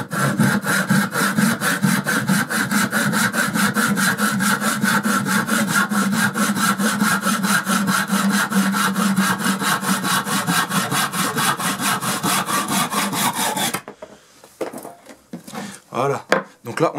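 A handsaw cuts wood for a knife handle in steady, rapid back-and-forth strokes, loud and close, ending with a few scattered knocks and handling noises.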